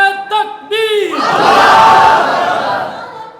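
A crowd at a religious gathering roars a slogan in unison right after a single voice calls it out, a loud, sustained massed shout close by.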